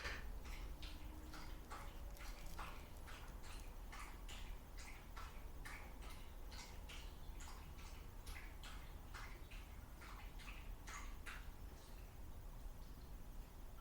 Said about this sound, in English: That's just the dog. He's drinking water.